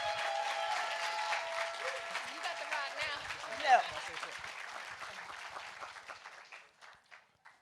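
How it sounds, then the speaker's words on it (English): An audience applauds at an evening event celebrating Black women for Women's History Month, the clapping filling the room with cheers mixed in before slowly thinning and dying away toward the end. "Give them a round of applause, everyone."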